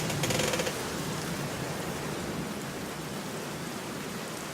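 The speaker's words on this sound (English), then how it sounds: "Why is the lightning always gonna crash as soon as I'm ending my video?" Steady rain with a low thunder rumble from a stormy scene in The Black Mirror Chapter 2 video game, a dense continuous wash at moderate level with a brief brighter burst at the very start.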